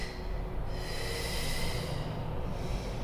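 Steady breathy exhalation from a Pilates instructor during an abdominal exercise, a continuous airy rush held for several seconds at close range with no talking.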